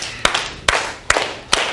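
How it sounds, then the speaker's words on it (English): A classroom of students claps in unison, four sharp, evenly spaced claps close by with short room echo and no talk. "Give me 5 claps."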